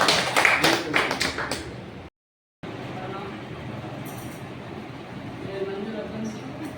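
A short burst of audience applause at a health awareness motivational talk, with dense clapping in the first two seconds, then a sudden cut and steady room noise with a voice speaking.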